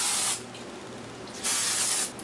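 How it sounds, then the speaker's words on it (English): Two short hissing bursts of Pam cooking spray from an aerosol can onto a cake pan, close up, separated by a brief pause, with no talking. "Cooking spray is really meant to keep the cake from sticking to the pan"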